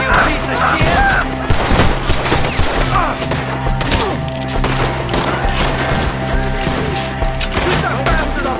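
Dense, loud Red Dead Redemption 2 gunfire during a shootout with enemies in the trees, rapid overlapping cracks and booms firing continuously throughout, with shouted voices mixed in.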